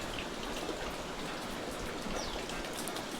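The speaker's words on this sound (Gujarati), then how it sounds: "ફૂલ વરસાદ ચાલુ થઈ ગયેલો છે." Heavy monsoon rain pours steadily during a red-alert spell in Gujarat, a dense, even wash of falling water with patter on surfaces, loud and continuous with no voices.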